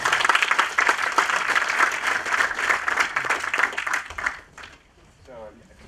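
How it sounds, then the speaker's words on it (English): Audience applause at a FOSDEM 2016 free-software conference talk: a dense, loud, sustained clatter of many hands for about four seconds that then dies away, followed by a single voice beginning to speak. "Big round of applause."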